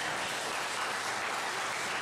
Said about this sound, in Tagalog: Sa mga pong malakas na palakpak sa ating Panginoon.